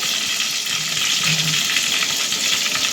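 Mustard seeds, garlic cloves and curry leaves sizzling in hot oil for a Konkan-style vegetable dish, a steady loud hiss and crackle throughout with no talking.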